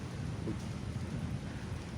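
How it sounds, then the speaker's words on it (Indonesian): Light rain falls steadily at the National Monument in Jakarta, a soft continuous wash of patter with a low rumbling background and no voices. "sekarang kondisi lagi sedikit hujan"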